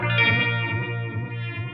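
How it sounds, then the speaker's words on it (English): A Hologram Electronics Chroma Console drift effect makes a sustained instrument tone wobble in slow, regular pitch and volume swells. It plays alone and fairly loud, with a chorus-like shimmer. "Now for the secondary effects on the movement module, we get a drift sort of effect, and I will show you what that sounds like."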